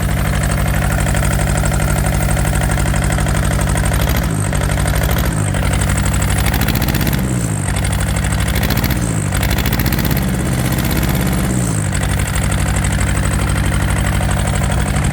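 A Yanmar diesel engine, not running on all four cylinders, idles steadily and loudly, with a constant low rumble and a few brief dips or stumbles in its rhythm.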